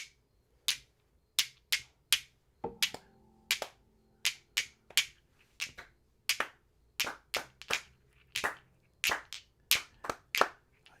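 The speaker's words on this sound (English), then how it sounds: "you can clap along if you want," Listeners clap along in a steady rhythm to Hawaiian slack-key guitar, sharp bright claps landing roughly twice per second, the guitar tones soft and low beneath them.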